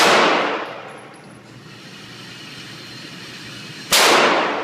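Two loud, sharp shots from a subcompact Glock 26 9mm pistol at a shooting range, one at the start and one near the end, each with a brief ringing decay, and a quiet pause between them.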